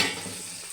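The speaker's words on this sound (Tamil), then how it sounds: "சாம்பாருக்கு வெங்காயம் வதக்கி விட்டுருக்கேன்." Onions sauté in a hot pan for sambar, giving a steady, close sizzling hiss that fades slightly over the short moment, with no voices.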